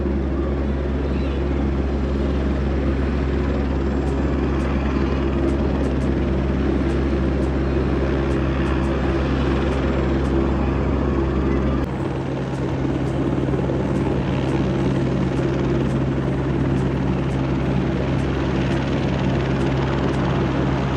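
A passenger helicopter on the Vaishno Devi pilgrimage route drones loudly and continuously at close range, its engine whine and rotor thrum holding steady throughout.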